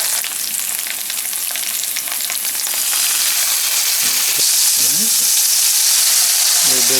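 Morel mushrooms loudly sizzle and fry in butter in a pan as soy sauce is added, with a steady bright crackle and short stirring scrapes near the end.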